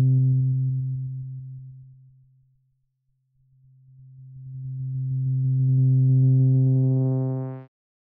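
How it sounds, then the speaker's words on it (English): A steady synthesizer sine wave tone fades to near silence, then swells back as bright overtones rise, ending abruptly. "you'll just end up with a sine wave"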